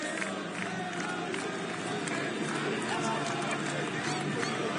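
Mamelodi Sundowns football fans celebrating a CAF Champions League final fill the space with a dense, continuous crowd roar and babble, steady and fairly distant, with no single clear cheer standing out.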